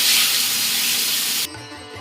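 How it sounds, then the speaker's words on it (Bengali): Prawns coated in salt and turmeric hiss loudly in hot mustard oil, a bright, close, spraying sizzle that cuts off abruptly, leaving only faint low sounds. "এখন চিংড়ি মাছগুলো ভেজে নিচ্ছি"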